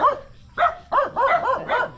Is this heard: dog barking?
yes